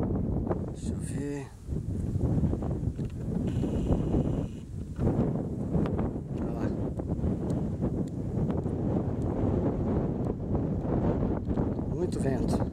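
Strong outdoor wind buffets the microphone in constant loud roaring gusts, with leaves rustling in places. A person talks beneath it during a walk to find capybaras.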